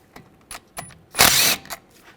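A 6mm hex socket ratchet removes a screw from a BMW 328i front brake rotor, giving a few quiet clicks and one short, louder burst of ratcheting up close.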